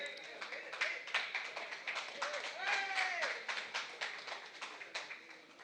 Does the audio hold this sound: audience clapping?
yes